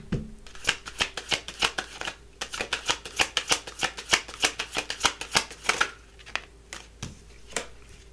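Someone shuffles a deck of tarot cards close by, with rapid crisp riffles and slaps in an uneven rhythm that continue for about eight seconds, and no talking.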